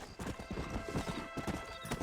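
Steady clip-clop of a horse galloping in the video game Red Dead Redemption, a fast continuous hoofbeat rhythm close and loud, with a hint of a whinny and no talk over it.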